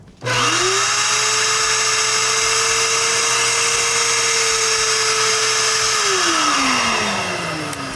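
A power drill in forward drills into an adobe wall, whining up to a steady high pitch, holding for several seconds, then winding down as the trigger is released; loud and close, no talking.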